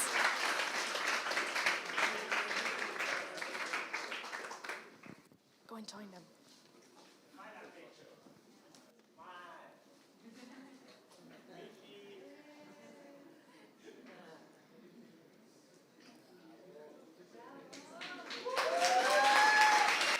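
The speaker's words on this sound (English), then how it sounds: "give you a big round of applause" Applause for a team at the closing of a democracy event, a loud wash of clapping that drops away into quiet chatter and voices, then swells again loudly at the end.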